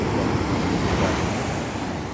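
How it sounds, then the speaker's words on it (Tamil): Heavy sea surf pounds the shore at Rajakkamangalam, a dense continuous roar of breaking waves mixed with wind buffeting the microphone, loud and close throughout; no voices. "கடல் பயங்கர அலை."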